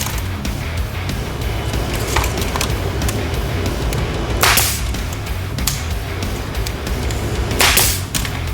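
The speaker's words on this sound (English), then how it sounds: "we're going to glue and nail it to one end of the 20-inch piece." Wood pieces for a craft project are nailed together after gluing, with a few sharp, loud cracks of the fastener standing out irregularly over a steady background of workshop noise.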